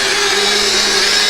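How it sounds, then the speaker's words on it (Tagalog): A blender whirs loud and steady at full speed, grinding chili peppers in a continuous harsh motor roar with no talking over it. "I-blender mo yung sili"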